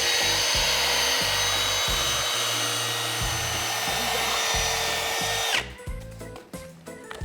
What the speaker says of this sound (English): this is one of the foam smoothing spinners. You can just skim off any lumps and bumps in there.